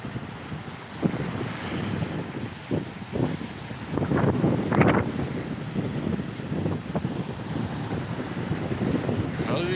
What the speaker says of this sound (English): It is too cold and windy on the beach